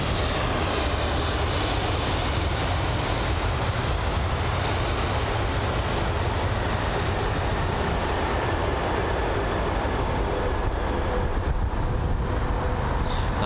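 Continuous, loud broadband roar from a Virgin Atlantic Boeing 787 Dreamliner landing at London Heathrow, steady rushing engine and air noise throughout with no pauses.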